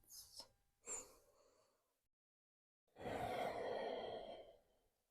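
Slow, deep breaths during a gentle yoga flow: two quick airy inhales, then a long, fuller exhale after a brief pause, close and soft with no talking.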